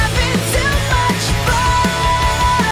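Pierce the Veil post-hardcore screamo song excerpt, dense loud distorted guitars and pounding drums with a vocal line, a brief burst of full-band rock.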